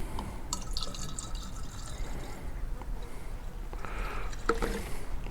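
Liquid pours and trickles into a garden fungicide mixture of black soap and water, a faint wet splashing with a few drips over a low background hum.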